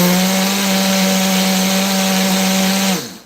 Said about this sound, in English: Now let's give this another grind.